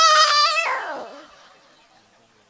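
A human voice imitates a dog, giving one drawn-out whining howl that slides downward and fades out, performed as part of a Gujarati stage comedy routine.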